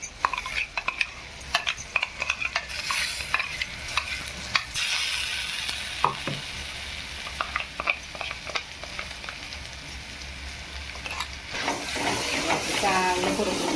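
Ground masala paste sautéing in a pan for a wet pavta rassa curry, a steady sizzle and hiss under repeated scraping and clinking as a spoon stirs, with sharper metallic taps scattered throughout.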